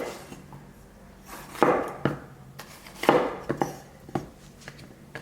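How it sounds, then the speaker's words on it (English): A knife cutting green, yellow and red bell peppers into small squares on a board, heard as irregular crisp chops and slices, some louder taps against the wood, close and without talk. "We're gonna start slicing all the peppers into small squares."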